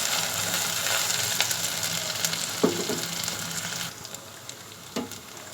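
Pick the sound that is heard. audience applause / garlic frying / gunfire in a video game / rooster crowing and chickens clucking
garlic frying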